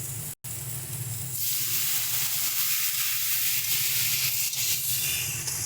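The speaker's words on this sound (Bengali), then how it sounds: "এবার এর মধ্যে আমরা জল দিয়ে দিচ্ছি।" Water is poured into a wok of frying spices for a dried-fish (shutki) dish. After a brief gap, a loud rush of sizzle and steam bursts out and settles into a steady hiss.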